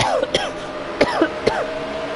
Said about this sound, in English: Again, I do apologise about my coughing.